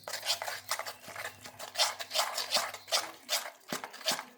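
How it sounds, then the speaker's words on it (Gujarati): Spoon stirring moong dal and green pea appam batter mixed with baking soda in a bowl, a close, rhythmic series of wet scraping strokes, steady and repeated, with a low background hum early on. "અને એને આપણે ખૂબ હલાવી લઈશું"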